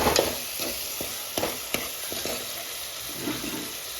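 Spice masala tempering and frying in a hot pan, a steady broadband sizzle with a few sharp spatters and stirring scrapes, close and moderately loud with no talking.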